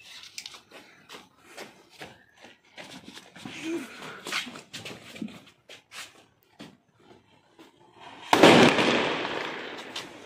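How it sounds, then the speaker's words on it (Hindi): Firecrackers go off at an outdoor birthday celebration in India, with scattered small pops and crackles followed by one loud, close burst and a crackling tail, while people talk faintly nearby. "अभी ये फिर से पटाखे लाने लगे हैं,"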